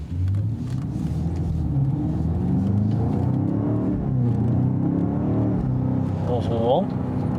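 A car with a red interior pulls away and accelerates on the way to a drag race in Ventspils, its engine a steady low rumble under continuous talk, with a brief rising rev near the end.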